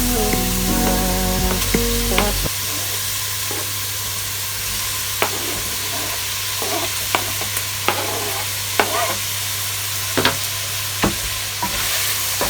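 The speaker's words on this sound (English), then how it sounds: "So now I'm just gonna add in my pumpkin." Chunks of pumpkin tipped into a pot of sizzling onion, bell pepper and garlic for pumpkin rice, a brief clatter followed by a steady hiss of frying, with several scraping spoon strokes stirring the mix at intervals.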